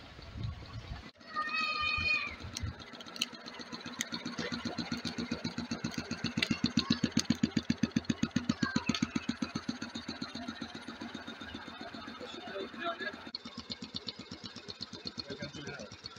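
A Stirling engine generator heated by a rocket stove starts up and settles into a fast, even mechanical chugging. The rhythmic thumping is steady and close, and a voice talks over it at the start.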